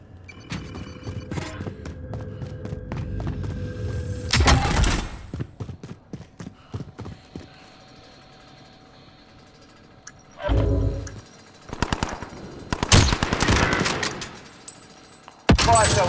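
Bursts of automatic gunfire in the battle royale video game Call of Duty Warzone Resurgence, loud rapid volleys separated by quieter stretches of movement and game ambience, with brief voice callouts.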